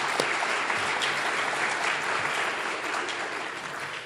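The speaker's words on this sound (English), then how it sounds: "And so I want to give them a round of applause for everything they've done for us that we're not even aware of." A lecture audience gives a round of applause, many hands clapping in a thick, sustained wash that fades slightly toward the end.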